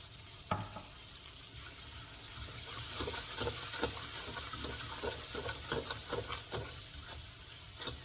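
Vegetables sizzle and fry in a wok while being stirred for a mud crab dish in XO sauce, with steady frying hiss, scattered clacks of the utensil and no voices.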